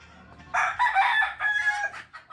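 A rooster crows once at close range near the chickens' coop, a loud, drawn-out call lasting about a second and a half.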